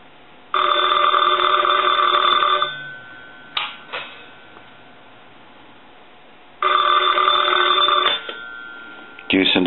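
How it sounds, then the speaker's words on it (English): A Bell Gettysburg wooden wall telephone's bell rings loudly and close up in two bursts of about two seconds each, with a quiet gap between them that holds a few brief clicks. "I want to go ahead and ring the telephone."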